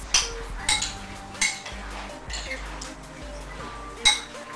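Cucumber, jicama and cilantro salad stirred in a bowl with lemon, giving a few scattered clinks and scrapes of a utensil against the dish, fairly close and moderately loud, with no talk over it.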